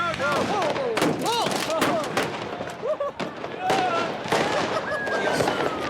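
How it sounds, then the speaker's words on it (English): Kids set off fireworks in a crowded Libyan square: rapid crackling bangs and popping bursts overlap with whistling rockets, amid a noisy crowd with voices shouting throughout. "Every kid above the age of 5 seems to have been issued a lighter and a fistful of fireworks"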